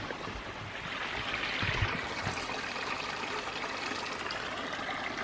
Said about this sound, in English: there's a little creek.